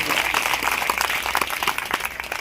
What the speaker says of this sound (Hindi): हमारे गुरुदेव का तालियां बजा करके स्वागत सत्कार और अभिनंदन कीजिए